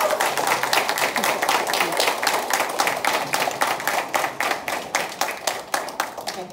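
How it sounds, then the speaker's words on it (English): Graduates at a graduation ceremony applaud in a steady round of clapping, a continuous patter of many hands that thins toward the end into more distinct, rhythmic individual claps. "Graduates, please give your support system a round of applause."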